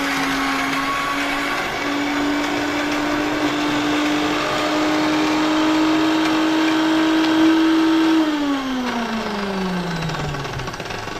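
A kitchen mixer grinder whirs loudly and steadily while grinding a masala paste for a Konkani chicken dish with wet cashews, then winds down as the motor is switched off near the end.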